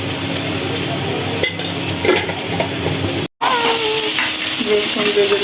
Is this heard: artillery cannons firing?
no